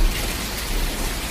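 Heavy rain and wind lash outdoors in a storm, a dense, loud, unbroken roar of downpour with gusting noise and no voices.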